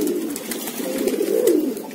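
A pet pigeon coos close by in a low, throaty, continuous murmur that swells slightly toward the middle, with no voices over it.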